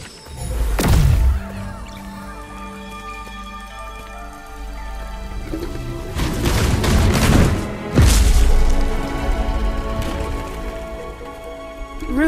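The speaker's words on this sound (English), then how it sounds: "Try your bomb." A spirit bomb explodes in the Kena: Bridge of Spirits video game, with two loud, deep booms several seconds apart and a crackling rush between them, all over sustained tonal music.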